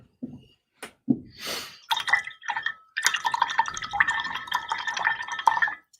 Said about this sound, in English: Rinse the brush.